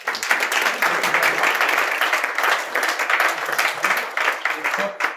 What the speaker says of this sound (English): one last round of applause for Stella